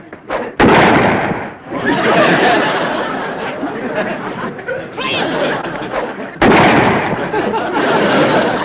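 Gunfire in a television sitcom: two sudden loud blasts about six seconds apart, each followed by a dense, noisy wash of sound that fills the gaps.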